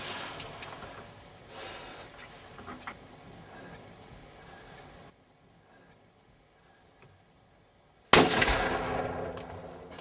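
A single sharp gunshot cracks out loud and close during a deer hunt, fired at a doe, after several seconds of quiet outdoor ambience, with its echo trailing off.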